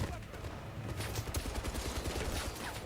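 Gunfire in a shootout from the 007 First Light game, rapid overlapping shots crackling in quick bursts at moderate level, with a voice talking faintly underneath.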